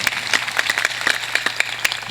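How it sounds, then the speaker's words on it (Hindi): An audience at a satsang gathering claps loudly to welcome an MLA, a dense burst of steady applause with sharp individual claps standing out. "जोरदार ताली बजा के अभिनंदन कर दीजिए।"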